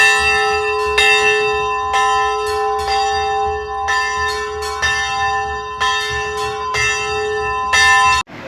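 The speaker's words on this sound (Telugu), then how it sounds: "గంట సౌండ్ బాగుంది కదా" A bell rings at a place of worship with about eight loud, clear strikes in a steady rhythm, each tone sustaining and overlapping the next before it stops abruptly.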